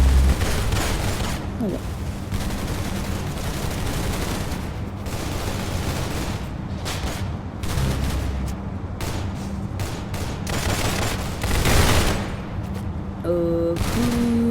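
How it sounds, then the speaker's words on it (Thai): Rapid gunfire from the Roblox game Arsenal rattles almost nonstop in dense bursts of automatic and single shots, loud and close, with occasional heavier booms and a brief game chime near the end. "ตอนนี้เสียงปืนข้างบนดังมากแบบสู้กันแบบเหมือนสงครามโลกครั้งที่สองอะ่ะ"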